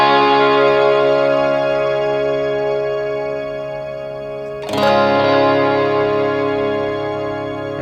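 A sustained D chord on guitar with a shimmer effect rings out with a shimmering, reverb-washed tail; near the midpoint a second strum blooms into a bright, airy swell.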